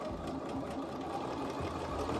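A sewing machine stitches a dress seam down to the hem, running in a fast, steady mechanical whir at close range with no pauses.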